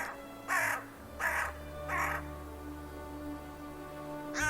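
A crow gives four loud, evenly spaced caws, each about a second apart, with a fifth starting at the very end, over a low steady hum.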